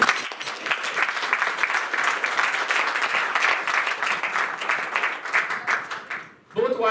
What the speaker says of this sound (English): I really want to have a round of applause for all the senior faculty in CS and UMIACS.